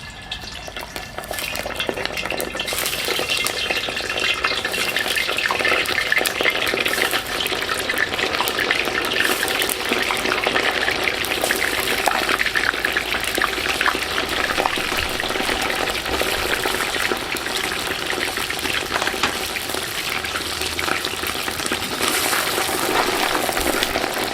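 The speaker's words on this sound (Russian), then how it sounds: "Как только казан нагрелся, заливаем масло и где-то через минуту добавляем жир, который мы обрезали с мяса." Oil and trimmed lamb fat sizzle in a hot kazan over an open fire, making a continuous dense crackling hiss that stays loud and even throughout, with no voices.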